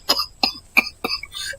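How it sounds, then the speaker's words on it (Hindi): A man coughs four times in a row, spaced apart and close up, with a rougher throat-clearing sound at the end, in a hospital setting while he is down with a cold and cough. "वो बहुत खांस रहा होता है।"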